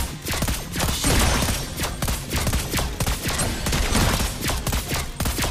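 Rapid gunfire bursts from a tank-destroyer marksman hero in the mobile battle game Mobile Legends, layered over busy game effects and music, dense and continuous throughout.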